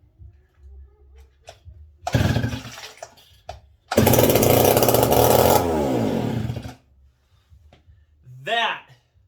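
A McCulloch 55 gear-drive chainsaw engine revs hard and loud in two bursts, a short blip followed by a longer sustained roar, with brief speech in the quiet gaps between.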